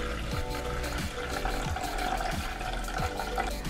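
Water pours steadily into the tank of a Ferratti Ferro FCM-3017 espresso machine, a continuous close filling gurgle with no talk.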